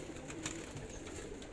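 A pigeon coos softly, close by, with a few low murmuring notes over faint background noise.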